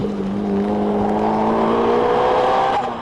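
A modified car carrying twin 15-inch MTX subwoofers and an extra 250 kilos in the tail is driven on a slippery track, its engine a steady, loud droning hum that rises slightly in pitch throughout, with no talk.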